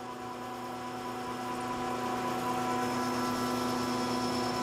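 A metal lathe turns 1-inch steel stock down to its final diameter, giving a steady humming drone with sustained tonal whine that grows slightly louder over the few seconds, with no talking.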